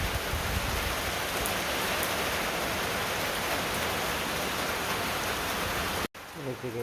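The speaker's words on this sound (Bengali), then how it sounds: "বৃষ্টি শুরু হয়ে গেছে" Steady rain pours down on a farming village at rice-harvest time, a dense, even hiss that fills the whole stretch, cutting off abruptly near the end before a quieter patter resumes.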